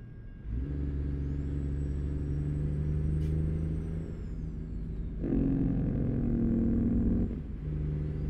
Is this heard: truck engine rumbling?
yes